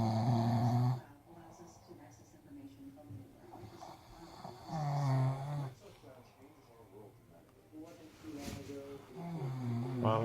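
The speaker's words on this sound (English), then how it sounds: "before the snore boy kicked in." A person snoring while asleep after a long walk around Madrid, with loud rough snores at a slow rhythm, heaviest at the start and returning near the middle and end, and quieter breathing between.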